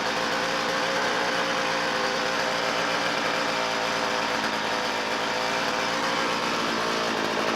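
A Poulan Pro chainsaw with a rebuilt Walbro carburetor runs steadily nearby, a loud buzzing drone with slight fluctuations in speed and no pauses.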